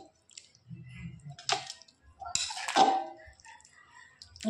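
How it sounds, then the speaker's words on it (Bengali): A vegetarian curry is poured from a pot into a bowl, with soft wet plops, squelches and light clinks of the vessels at close range, separated by short quiet gaps. "এবার নিরামিষ তরকারিটা একটা গামলায় আমি ঢেলে নেব।"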